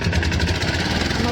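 Boat motor starting up on Chilika lake, a rough, throbbing mid-pitched engine chugging steadily and close by, with a voice faintly present.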